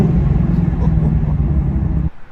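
Ford Mustang with a manual gearbox and auto rev match, its engine giving a loud, steady low rumble for about two seconds before cutting off abruptly.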